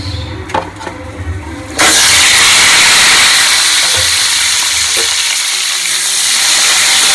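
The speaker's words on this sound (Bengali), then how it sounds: "তেলটা গরম হলে পটলগুলো দিয়ে দেবো।" Pointed gourd pieces drop into hot oil, setting off a sudden loud, sustained sizzle and hiss after a short quiet stretch with light knocks, then frying continuously up close with faint stirring.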